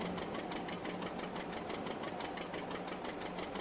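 A Hercules tractor engine in a farming video game runs steadily at idle, with a rapid, even knocking pulse and a low hum, loud and alone.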